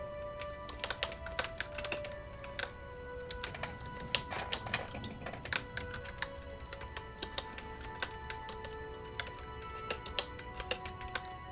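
Steady, rapid keyboard typing with irregular clicks and clacks running throughout, fairly close and moderately loud, with no talk over it.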